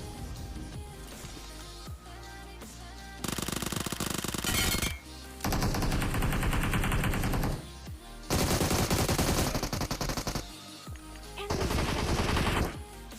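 Bursts of rapid automatic gunfire from a video game erupt repeatedly, loud and close, separated by brief quieter gaps.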